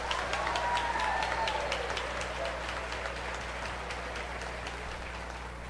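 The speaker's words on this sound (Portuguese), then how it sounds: "Dá uma salva de palmas aí para o teu grupo de oração." Faint, steady applause from an audience at a Catholic charismatic prayer retreat in Cascavel, heard at a distance with a low hum underneath and no break for almost six seconds.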